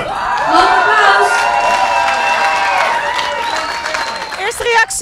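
Crowd at a Global Battle of the Bands contest in The Hague, 2013, applauds and cheers for a band. Loud clapping and whooping mix with shouting voices and ring out near and continuous.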